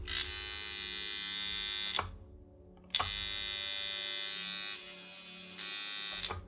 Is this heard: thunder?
no